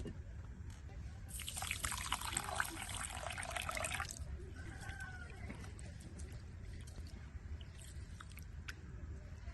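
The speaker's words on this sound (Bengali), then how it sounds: "চালগুলো এখন পানি দিয়ে ভিজিয়ে নেব" A steady stream of water pours over rice in a container for a few seconds, then stops, leaving faint trickles and small handling noises.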